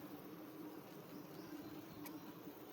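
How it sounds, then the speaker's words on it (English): Honeybees at an open hive during a honey harvest make a low, calm, steady hum, faint and continuous with no voices over it. "you can hear their buzzing. You see how it's a low, calm yee."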